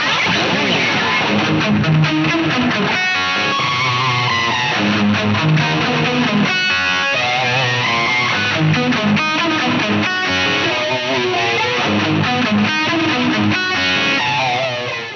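Heavily distorted electric guitar through a modded Marshall Super Lead on a Variac and a Marshall 4x12 cabinet miked with SM57s, riffing loudly and continuously, thick and saturated with chugging chords and sustained notes.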